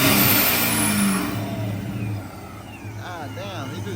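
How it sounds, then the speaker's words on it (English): A procharged RT car engine revs hard while still cold on its first start in months, a loud, roaring engine sound that eases slightly partway through, with people talking over it. "he's just revving the fuck out of it when it's cold"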